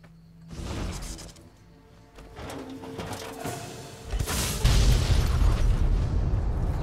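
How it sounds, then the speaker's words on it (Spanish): A rising explosion in Fallout: New Vegas builds into a loud, sustained rumbling blast that fills the end, with muffled pops and cooing sounds before it. "me encanta la explosión"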